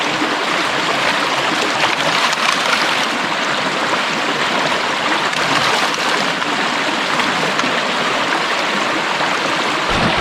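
A stream rushes steadily over gravel in Wicklow during placer gold prospecting, a dense, unbroken close-up wash of flowing water with no pauses and no voices.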